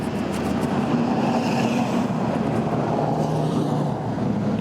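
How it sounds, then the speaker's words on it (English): Trains and road traffic rumble beside a dig site, a steady, loud, continuous roar with a low hum that persists throughout, with no talking. "Here comes the train again. That with the traffic, man, it is loud here."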